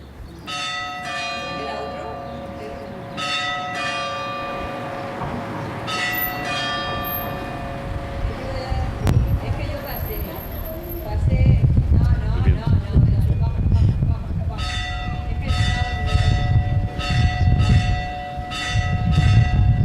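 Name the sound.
church bells ringing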